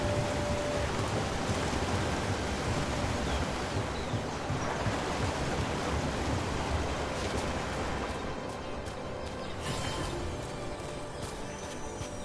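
Waterfalls in the video game Dragon Age: The Veilguard give a dense, continuous rush of falling water, loud and enveloping, easing slightly toward the end with no voices over it.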